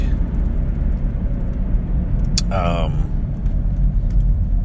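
A car drives through slower traffic on a two-lane road, heard from inside as a steady low road rumble with a brief rising whine from a passing vehicle midway; a voice speaks.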